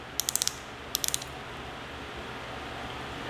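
A micrometer's ratchet thimble clicks in two quick bursts of four or five sharp, light ticks, followed by quiet room tone.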